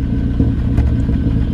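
A car idles through a new Tomé Performance exhaust, a steady low rumble that sits close and loud throughout the short stretch.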